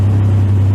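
Ford Capri Brooklands Turbo engine held at a light throttle during fault diagnosis, a close, loud steady hum with a strong low drone and no clear rise in revs.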